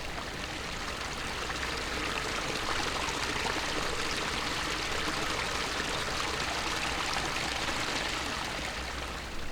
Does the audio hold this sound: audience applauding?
no